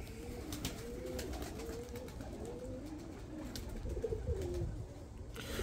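Pigeons coo in a repeated, rolling series over steady background noise, the calls fairly close and moderately loud, from a breeder's loft of flying pigeons in Bradford, UK, with no talking.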